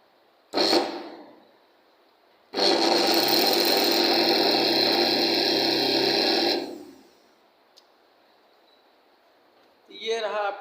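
An AC series motor on a practical test bench spins up to very high speed, a loud steady whine of around four seconds that cuts off and winds down, framed by brief short bursts before and after.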